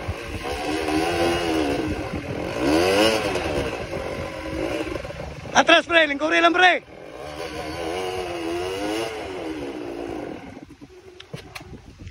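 Motorcycle engine revving in bursts while riding uphill through the Six Towers area of Cebu City, with a loud, sharp rev cluster midway, mixed with wind and steady riding noise while several people talk and shout throughout.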